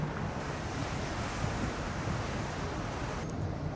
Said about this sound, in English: Yeah, still breezy out here.